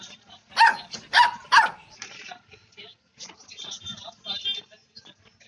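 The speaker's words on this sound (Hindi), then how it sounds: "कुत्ता।" Dog barks in a block-building video game, three loud sharp yaps in quick succession followed by fainter yips and whimpers, standing alone with no talk.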